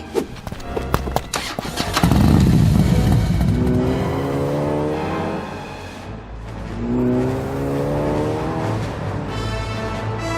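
A motorcycle with a sidecar races in an Indiana Jones video game. Its engine revs in loud, rising and falling sweeps, mixed with clattering hoof-like clops and other vehicle noise.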